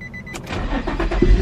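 An Infiniti G35 engine cranks and catches in one quick start, a short starter whir rising into a low, close engine rumble inside the car.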